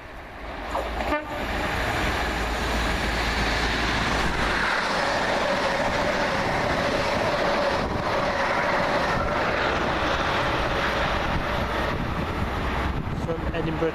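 Train 1V50 from Edinburgh to Plymouth passes at Water Orton, a loud sustained roar of wheels and carriages rushing by, opening with a sharp horn blast before the steady rumble continues.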